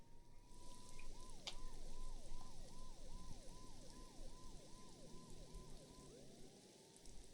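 Police sirens from the video game Max Payne 2 wail in a fast, repeating up-and-down cycle a few seconds long. They sound somewhat distant and sit under steady rain-like background noise.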